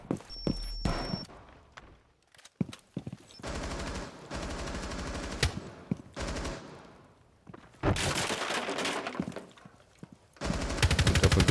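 Bursts of automatic gunfire and single shots in a first-person shooter match, loud rattling volleys separated by short pauses, with the heaviest sustained firing toward the end.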